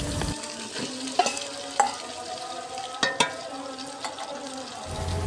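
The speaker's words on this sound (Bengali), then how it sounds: "পেঁয়াজ ভাজা হওয়ার পর মাখানো মাংসগুলো এক এক করে দিয়ে দিব" Meat and onions frying in hot oil in a pot on a clay stove, a steady sizzle punctuated by sharp clinks and scrapes of a utensil against the pot.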